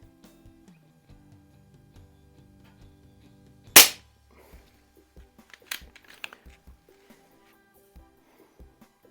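A Hatsan Jet 2 air rifle fires one sharp, loud shot, followed about two seconds later by a quieter crack and a few small mechanical clicks and ticks; otherwise the surroundings are quiet.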